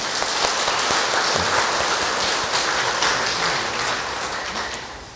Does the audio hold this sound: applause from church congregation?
yes